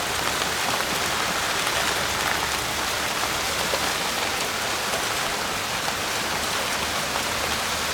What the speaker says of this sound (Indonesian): Kemudian hujan tuh.